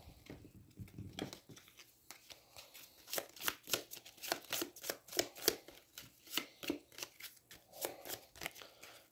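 Cards from the Aeons End board game are riffled and shuffled in a series of quick, crisp bursts, repeated rhythmically at close range with no talking.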